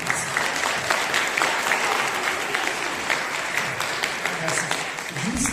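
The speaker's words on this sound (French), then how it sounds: "Sous vos applaudissements." Sustained, dense applause from a film-festival audience before a screening, many hands clapping loudly and evenly for several seconds, filling the room.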